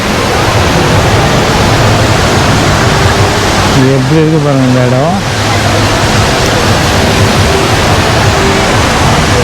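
Water pours down the tall indoor waterfall at Jewel in Singapore, a loud, constant rushing roar that fills the space while someone talks over it briefly in the middle.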